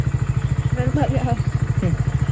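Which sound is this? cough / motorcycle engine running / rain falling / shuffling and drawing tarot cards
motorcycle engine running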